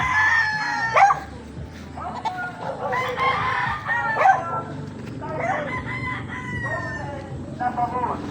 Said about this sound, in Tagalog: Ang dami niyang manok.